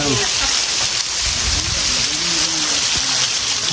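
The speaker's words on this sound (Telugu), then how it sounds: "చూడండి వాటర్ ఫాల్ మన వెనక" Agni Pushkarini waterfall on the Ahobilam trek in the Nallamala forest roars as a steady, dense rush of falling water, loud and continuous throughout, with faint voices from the trekkers passing beside it.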